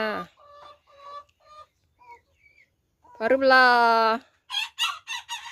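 Soft clucking and a short spoken phrase, then a neighbour's rooster lets out one loud, close crow, followed by a few brief sharp calls.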